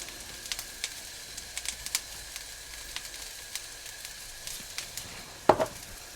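Banana peel curry frying in a pan and being stirred, with a soft steady sizzle broken by scattered light scrapes and taps of the spoon and one sharper knock near the end.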